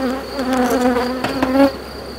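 Honeybees buzz steadily and close during a hive inspection of a swarm colony, a dense, continuous drone with no voices over it.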